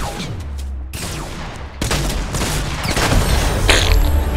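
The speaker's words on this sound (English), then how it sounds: "He's firing grenades." Grenades launched and bursting in a Fortnite Battle Royale match: a run of loud, close explosive booms and rapid gunfire-like blasts, with a brief quieter gap before the barrage resumes strongly.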